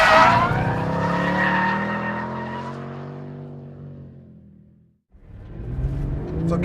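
A Porsche GT3 RS 4.0 sports car drifting sideways: a loud, long tire squeal over a straining engine that slowly fades, then a brief drop to silence before the engine roars again.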